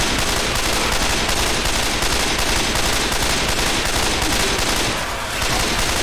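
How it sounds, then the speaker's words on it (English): Continuous dense gunfire in Left 4 Dead 2, a loud, close, unbroken rattle of rapid shots filling the whole stretch with a brief dip near the end and no talk. "Sorry for shooting you."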